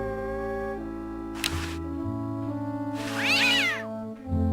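A cartoon cat in an old-school video game meows twice, with a short cry followed by a longer, louder wavering yowl. Both sound over a steady backdrop of game music.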